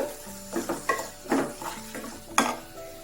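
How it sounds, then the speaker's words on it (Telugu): A spoon stirs turmeric, chili powder and garam masala into a potato capsicum gravy in a pan, several scraping strokes with clinks against the metal and a soft sizzle beneath. "ఒక అర స్పూన్ పసుపు, అర స్పూన్ మిరప్పొడి, ఒక అర స్పూన్ గరం మసాలా పిట్ వేసి ఒకసారి బాగా మిక్స్ చేసుకొని"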